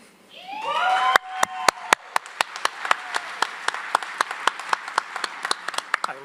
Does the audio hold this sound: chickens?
no